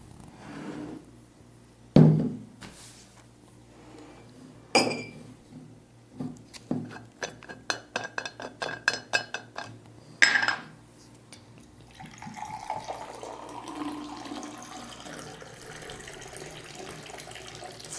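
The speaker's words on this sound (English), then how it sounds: "Full glass of water." Water from a tap is poured into a drinking glass, a steady splashing stream after a few sharp clinks, close by with no talk.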